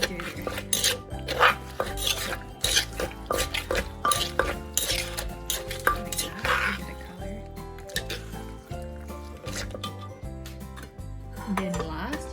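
Ingredients for a Lao-style green papaya salad being mixed together in a bowl, giving a steady run of clattering utensil knocks and scraping clinks against the dish, close and fairly busy throughout.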